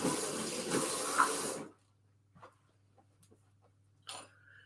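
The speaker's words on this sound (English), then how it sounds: "I've just got to wash my hands." Tap water runs hard into a kitchen sink for under two seconds while sticky hands are rinsed after mixing oat muffin batter, then cuts off, leaving a quiet room with a few small knocks and a brief clink.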